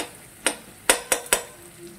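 Mixed vegetables with pepper sauté over low heat in a pan, with four sharp scraping stirs of a utensil against the metal over a quiet background sizzle.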